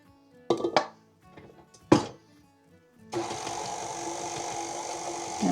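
An electric mixer beating cookie dough for M&M pudding cookies starts up partway through and runs as a steady, loud whir to the end, after a few earlier clinks and knocks of kitchen utensils.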